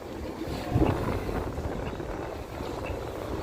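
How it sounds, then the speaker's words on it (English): Strong wind buffets a microphone on a Las Vegas street at night, a steady loud low roar and rumble filling the whole stretch with no clear talk. "Yeah, it is windy AF over here right now"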